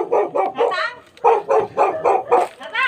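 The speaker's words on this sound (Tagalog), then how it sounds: "Kaso may aso naman." A dog barks repeatedly at a neighbor's house, a close, loud run of rhythmic barks and yips with a short pause partway through.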